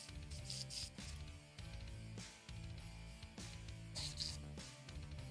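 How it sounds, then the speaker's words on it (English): A Badger airbrush spraying 3D primer onto a 3D-printed piece rattles and sputters from a paint blockage, a close, quiet hiss broken by repeated irregular clicking bursts and brief dropouts, with no voices. "I'm going to dump this because I hear a blockage. Your airbrush starts rattling."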